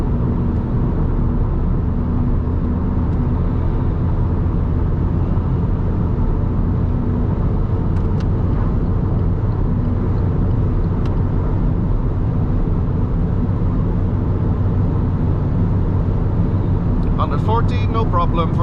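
Alfa Romeo MiTo engine running hard at high speed downhill in 5th gear, a steady loud drone with road and wind noise from inside the cabin, continuous and unbroken throughout.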